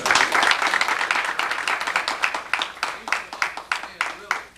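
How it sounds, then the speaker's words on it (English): Conference audience applause starts as a dense burst of many clapping hands, then thins into fewer, more distinct claps that trail off in a loose rhythm. "I think that we should give her a round of applause again"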